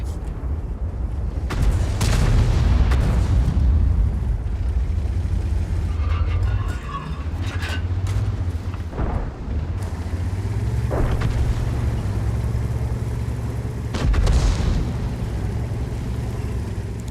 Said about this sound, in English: I need to hide myself from artillery.